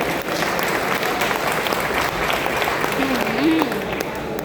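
Applause at a Pondicherry association meeting, honouring the organisation's founder: dense, steady clapping from a hall full of people, sustained at an even loudness for the whole stretch with faint voices mixed in.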